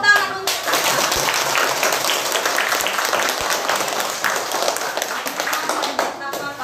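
Schoolchildren at an Indonesian elementary school clapping hands together, loud, dense and steady applause filling the room for several seconds, with children's voices mixed in.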